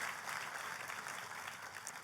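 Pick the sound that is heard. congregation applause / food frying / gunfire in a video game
congregation applause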